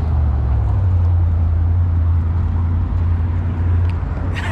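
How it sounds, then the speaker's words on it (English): A Porsche sports car passes very close on a street, with a loud, continuous low engine and road rumble that fills the whole stretch and eases slightly near the end. "A Porsche almost hit me."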